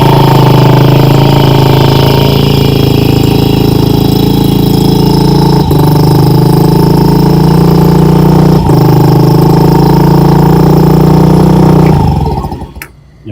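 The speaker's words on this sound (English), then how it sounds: "let's give her a start. Just gonna idle really high until the auto choke goes" A 2011 Honda Ruckus 49cc scooter engine runs at a loud, steady high idle on auto choke, a constant buzzing drone close by with a couple of brief clicks, then cuts off abruptly near the end.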